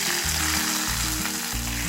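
Hot oil tempering of fried shallots, chilli and curry leaves poured into a Kottayam-style roasted-coconut shark curry gives a loud, continuous close-up sizzle that fills the short moment.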